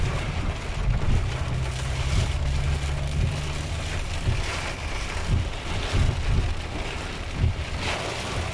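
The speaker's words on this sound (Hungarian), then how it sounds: "Ott megy a vízibusz." A water bus passes on the river in June, heard as a steady low engine rumble and washing water, mixed with gusty wind buffeting the microphone, with no voices.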